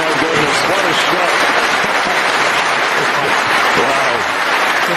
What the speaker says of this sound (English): Prolonged round of applause for that brilliant black.